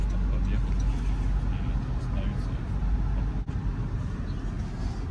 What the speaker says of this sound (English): So you just saw this Prius driving by itself.